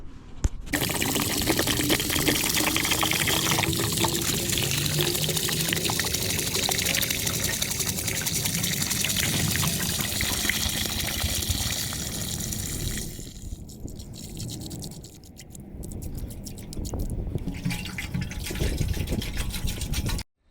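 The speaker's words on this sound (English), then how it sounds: "So there is no harm and foul with dumping this stuff out. It's just vinegar." Vinegar pours in a steady, loud gush out of a vintage Suzuki GT380 motorcycle fuel tank, splashing continuously before briefly thinning and then resuming.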